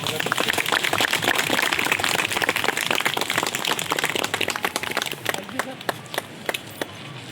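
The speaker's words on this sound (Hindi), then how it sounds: "सर के लिए जबरदस्त ताली।" An audience at a meeting gives a sustained burst of loud, dense applause for a speaker, many hands clapping together steadily before thinning out toward the end.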